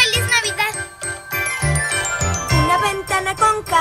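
Jingling Christmas bells with chiming window tones, bright tinkling rings repeating over a bouncy musical backing with plucked and rhythmic accompaniment, close and lively.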